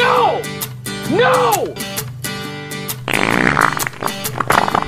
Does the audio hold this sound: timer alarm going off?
no